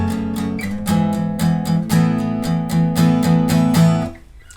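Acoustic guitar strumming the chords of a song's pre-chorus, steady rhythmic strums ringing full and close before fading out, no voices.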